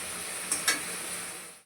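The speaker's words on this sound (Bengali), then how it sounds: "একটু ভেজে নেব, টমেটো কাঁচা গন্ধটা যাওয়া পর্যন্ত একটু" Chopped tomato frying in hot oil in a pan while being stirred, a steady soft sizzle with two brief scraping stirs partway through, close and alone.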